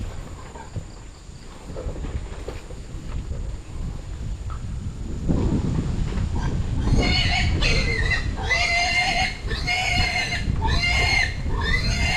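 Pigs squeal in loud, repeated shrill bursts over a low rumbling background on a mountainside, the squeals starting partway through and continuing in quick succession.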